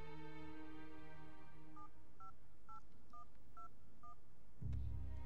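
A telephone number is punched in on a keypad: six short, evenly spaced touch-tone beeps over soft background music, then a sudden low thud at the end.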